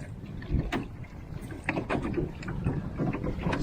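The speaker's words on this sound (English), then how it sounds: "This is going to be a fun little paddle across Lila." A canoe paddled across Lake Lila on a windy day: gusty wind buffets the microphone while soft, irregular paddle splashes and hull knocks sound close by.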